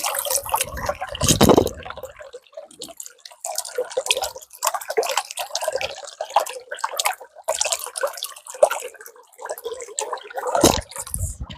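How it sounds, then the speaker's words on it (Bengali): Water babbles and gurgles under a bridge in irregular splashing bursts, close and fairly loud, with a faint voice now and then. "আর পানির একটা কলকল শব্দ"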